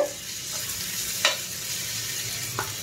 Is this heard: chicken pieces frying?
yes